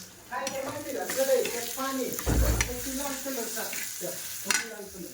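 Brinjal bharit cooks in oil in a pan over a low gas flame with a continuous soft sizzle and occasional stirring clatter. A person talks over the frying for most of the stretch.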